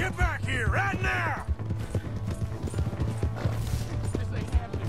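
A horse gallops in Red Dead Redemption 2 on PS4, with steady hoofbeats, creaking tack and a brief whinny under in-game dialogue and background sound.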